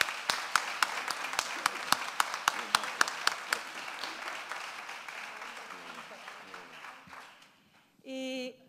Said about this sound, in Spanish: E eu gostaria que nós dessemos uma grande, grande salva de palmas ao Tate por todo o trabalho que desenvolveu,